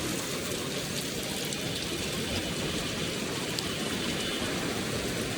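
Heavy rain pours steadily over Dhaka city streets, a dense, even hiss of water that stays constant throughout, with no voices.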